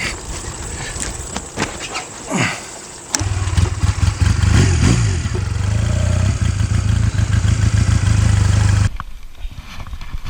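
A motorcycle engine catches after a bump start, firing into a loud, steady idle that runs for several seconds before cutting off, preceded by rolling and scuffing noises.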